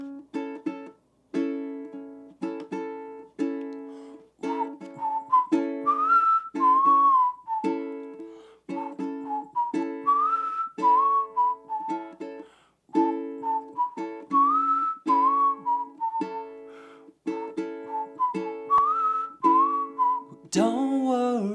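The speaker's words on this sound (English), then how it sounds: "we're going to start with a whistle." A person whistles the melody of a song for a sing-along, in smooth, steady phrases with brief breath pauses. The whistling is close and clear, with no talking.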